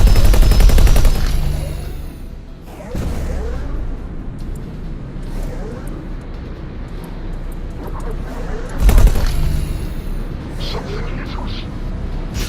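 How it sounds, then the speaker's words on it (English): Ships firing weapons at each other in the space game X4: Foundations, loud repeated bursts of rapid gunfire and blasts with rumbling engine noise between them. "Oh wow, they're actually shooting at me."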